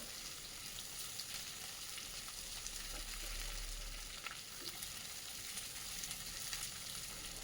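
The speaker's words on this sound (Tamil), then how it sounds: "இதை நல்லா வதக்கி விடலாம்" Mixed vegetables and green peas sautéing in hot oil, a continuous even sizzle with soft stirring scrapes, close and steady throughout.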